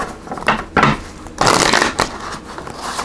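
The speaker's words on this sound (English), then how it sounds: "That was not a very productive shuffle." Tarot cards are shuffled by hand in several quick bursts of riffling and crackling paper, close and distinct, with brief pauses between shuffles.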